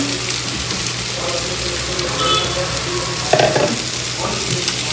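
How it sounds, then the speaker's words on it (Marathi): Boiled and squeezed mahua fruit vegetable frying in a pan makes a loud, steady hiss of sizzling oil, with a brief scraping stir partway through and no talking. "आपली मोहच्या फळांची जी उकळून पिळून टाकलेली भाजी मस्त ती याच्यात टाकू आपण"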